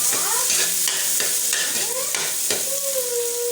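Onions sautéing in a pan, a loud steady sizzle broken by repeated stirring scrapes at a brisk, uneven rhythm, heard up close without talk.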